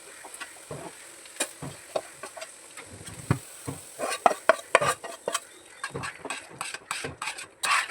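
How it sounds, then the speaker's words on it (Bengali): Pav bhaji masala being stirred and fried in a pan, with repeated scraping spoon strokes over a steady sizzle, close up, growing busier toward the end. "ভালো করে নেড়ে চেড়ে নিচ্ছি।"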